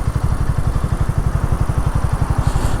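A motorcycle ridden on a windy road near a large lake in Japan gives a loud, close, rapidly pulsing engine thrum, with a steady low beat and wind hiss over it.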